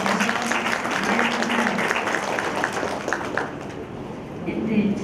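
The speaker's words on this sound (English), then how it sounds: "everybody give another applause, please" A graduation audience at an A-level ceremony claps steadily, a broad wash of applause that swells and fades slightly, with a voice speaking over it.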